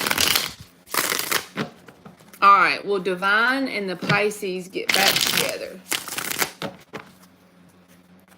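Tarot cards being shuffled, with crisp riffling bursts at the start and again near the end, broken up by someone speaking in between.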